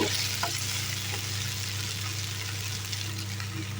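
Brinjal and sweet corn curry being stirred in a hot pan, a steady low sizzle with soft scraping as the spoon turns the vegetables, close and continuous with no talking.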